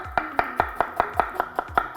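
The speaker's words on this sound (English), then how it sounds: "So we have one onion, and we're just gonna give him a quick slice." A knife quickly slices a single onion on a board for Dublin coddle, about ten crisp, evenly spaced chops, close and steady at roughly five per second.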